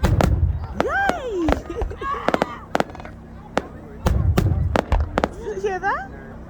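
Outdoor winter fireworks crack and pop in rapid irregular bursts, some with whistling rising shells, loud and close, while voices chatter and call out between the explosions.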